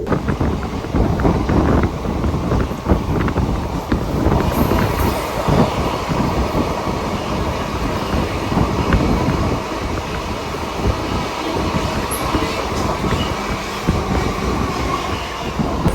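A train rumbles steadily along a curving track, with continuous wheel clatter and wind noise throughout, loud and close, with no voices.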